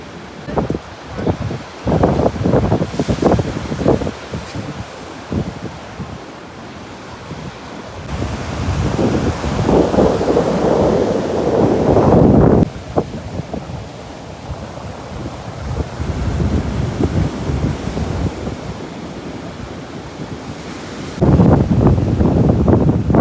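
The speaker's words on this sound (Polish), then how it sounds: "Mocne, wzburzone fale. Tu będzie słychać na pewno szum." Rough, stormy sea waves crash and roar at the Kołobrzeg port entrance in winter, with strong wind buffeting the microphone in loud, surging bursts.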